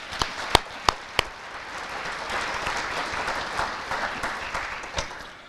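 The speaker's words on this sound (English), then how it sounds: "Can I get one more round of applause for the seniors?" A few sharp claps start it off, then a banquet hall crowd at an FFA banquet breaks into sustained, dense applause for the senior officers, steady and fairly loud throughout.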